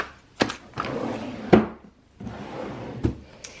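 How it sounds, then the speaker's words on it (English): A drawer in an art studio, used for storing old palettes, slides open and shut several times, giving woody thunks and rumbling scrapes that come close and fairly loud, with quiet gaps in between. "This is sort of just like a drawer where I'm putting old palettes"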